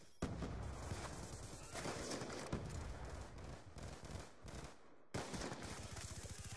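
Rapid video game gunfire, dense bursts of shots hammering continuously with brief gaps, loud and close throughout.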